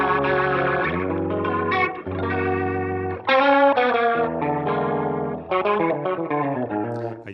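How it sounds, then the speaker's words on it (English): Electric guitar playing chords through a swirling, warbling Leslie rotary speaker effect, with pulsing modulation and brief pauses between phrases. "This Leslie sound."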